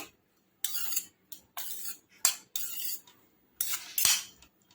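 A spoon clinks and scrapes through corn bhel as butter is mixed in, in six or seven short bursts of metallic scraping against a bowl, separated by brief pauses, close and fairly loud.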